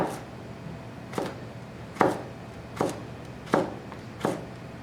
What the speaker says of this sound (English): I can actually put 2 of them together and I can just slice it thin